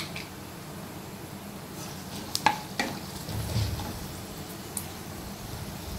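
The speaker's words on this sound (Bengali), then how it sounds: "আমি এর মধ্যে গরম মশলা, তেজপাতা আর শুকনো লঙ্কা ফোড়ন দিয়ে দিলাম।" Garam masala, bay leaves and dried chillies crackle and sizzle in hot oil for a tempering, a faint steady fry broken by a few sharp pops and a brief stir.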